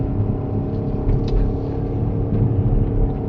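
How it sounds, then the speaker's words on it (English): Car engine labouring up a steep hill in first gear, a steady droning hum with low rumble, close and continuous, no talk. "Car gets slightly noisy"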